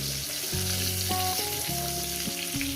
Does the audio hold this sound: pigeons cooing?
no